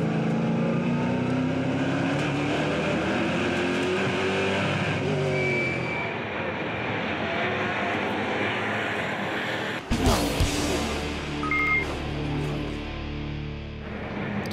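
Onboard at Brands Hatch, a NASCAR Euro race car engine gives a steady, loud, close drone through a long stretch, then a sudden jolt and clatter near the end as the engine note continues.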